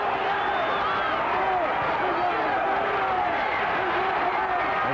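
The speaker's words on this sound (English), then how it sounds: "And the crowd saying yes." Wrestling arena crowd at a 1984 CWA televised match cheering and roaring steadily, a dense sustained wash of voices and yells throughout, with a commentator talking over it.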